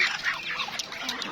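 White Chinese ducks on a small hobby farm quack in a short, close burst of overlapping nasal calls.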